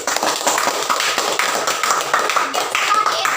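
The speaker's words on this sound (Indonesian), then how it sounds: "Tepuk tangan dulu." A group of students claps hands together in a sustained, dense burst of applause, loud and continuous throughout with no talk over it, at a small-group guidance session in a classroom.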